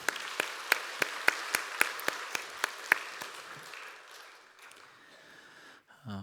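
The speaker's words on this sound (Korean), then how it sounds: "하나님께 영광의 박수 올려드리도록 하겠습니다" Sparse, rhythmic clapping from a Sunday worship congregation giving praise, about a dozen distinct claps at a steady beat that fade after three seconds into quiet room tone.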